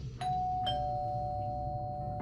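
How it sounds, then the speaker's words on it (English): A doorbell chimes twice in quick succession, a clear two-tone ring that lingers and fades over a low background hum. "who is incessantly ringing my doorbell"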